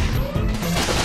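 Rapid gunfire in the Deadpool video game, a dense continuous burst of shots with heavy low rumble filling the whole second, loud and close with no pauses.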